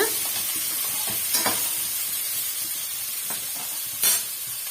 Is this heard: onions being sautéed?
yes